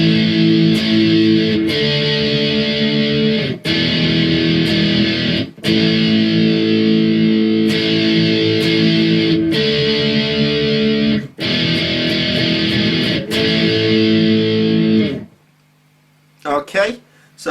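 Distorted electric guitar playing the second part of a song's outro, with loud, driving chords in repeated phrases separated by brief gaps, ending in a sudden drop to near silence.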